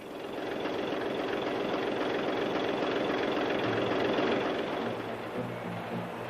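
W.H. Allen engine running on a test bed, a steady dense mechanical roar with a rapid knocking texture, close and unbroken throughout, with no talk.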